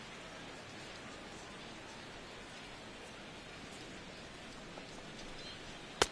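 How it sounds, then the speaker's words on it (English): Steady rain falling over a ballpark in the MLB The Show 16 baseball game, a soft even hiss that holds constant throughout and ends with one brief sharp tick. "as the rain continues to fall here"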